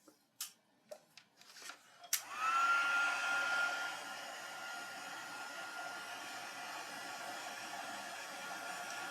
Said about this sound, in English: And we're going to heat emboss again.